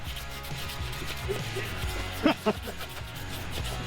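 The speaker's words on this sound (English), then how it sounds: "Here's me just struggling with this handsaw, cutting a tree like this." A handsaw rasps through a large fallen tree outdoors, rough irregular rubbing strokes under steady background noise, with two sharper scraping bursts in the middle.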